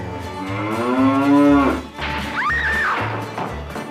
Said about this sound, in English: We're talking about the one, the only cow.